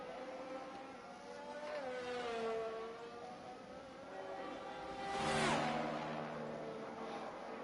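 Race cars lapping Silverstone in a racing video game, a steady quiet engine drone with smoothly rising and falling pitch as gears shift, swelling briefly louder midway, no talk.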